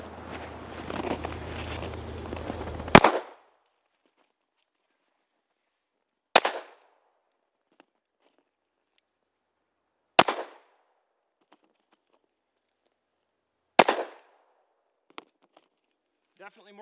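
Springfield Mod 2 pistol fired outdoors in four sharp, loud single shots spaced several seconds apart, each with a short echoing tail, following a stretch of talking.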